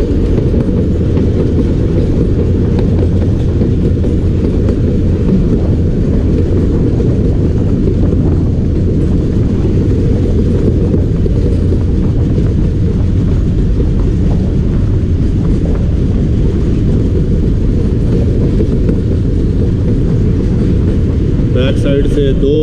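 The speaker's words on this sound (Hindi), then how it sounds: "साइड से दो आयरन हॉर्सेस RG20 अपना पूरा जोर लगा रहे हैं।" Two RG20 diesel locomotives haul the Jaffar Express up the steep, curving grade of the Bolan Pass between Sibi and Quetta in Balochistan. A loud, continuous low engine rumble and wheel noise persist with heavy wind buffeting throughout.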